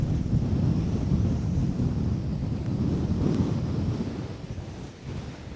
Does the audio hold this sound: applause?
no